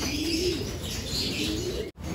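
Domestic pigeons in a loft coo softly and continuously at close range, with low throaty calls over light background chatter of birds, ending in a brief dropout.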